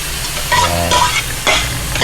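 Pork returned to a hot pan gives a loud, steady sizzle, with stirring scrapes rising in bursts around half a second, one second and one and a half seconds, and no voices.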